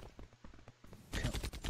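Pistol gunshots in the online shooter EV.IO, a quick run of sharp evenly spaced shots that grow louder and denser toward the end, with no talking.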